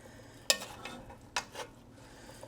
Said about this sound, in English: I'm going to stir that up and stir it every once in a while